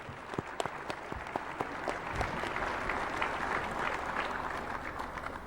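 An audience at a state geography bee final applauds the champions, a few sharp individual claps at first swelling into steady, moderately distant applause that carries on throughout.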